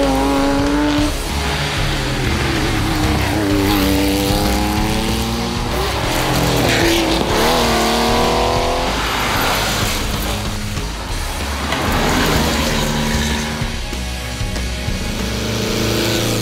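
Vintage rally cars race up a winding hill-climb special stage in the Jura countryside during the Tour Auto, engines revving and rising in pitch through the bends, loud and continuous with possible tire squeal.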